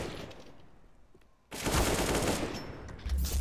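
Rifle gunfire in the video game CS:GO during a competitive match on the Nuke map, a sudden loud burst of shots breaking in after a quieter stretch, continuing as dense rapid fire.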